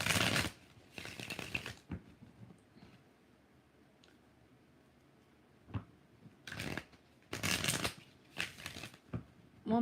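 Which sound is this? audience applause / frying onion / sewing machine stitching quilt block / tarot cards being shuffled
tarot cards being shuffled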